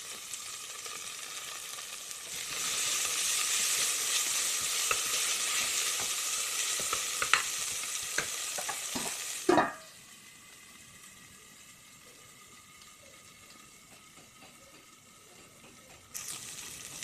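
Mint and coriander frying and being stirred in a pan for chicken biryani, with a steady loud sizzle and scattered scraping stirs that drop to a quieter simmer partway through. No one speaks.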